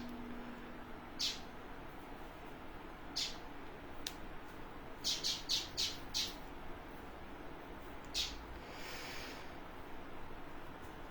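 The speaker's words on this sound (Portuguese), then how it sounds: "O pássaro ainda está por aqui." A bird squawking near an indoor reading and talk session, a handful of short, fairly faint calls scattered over a steady background hum, with a quick cluster of calls in the middle.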